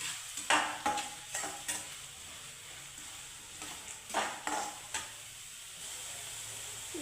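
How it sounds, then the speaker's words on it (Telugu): Onion pieces and green chillies frying in oil in a pan for Andhra-style okra stew, a steady close sizzle with several sharper stirring clatters and bursts spread across the clip, no talking. "ఉల్లిపాయ ముక్కల్ని దోరగా వేయించుకోవాలండి"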